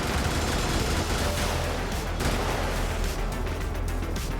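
Enemy gunfire in the top-down mech combat game Brigador, a dense continuous barrage of rapid shots and blasts, loud and unbroken for the whole stretch with no voices over it.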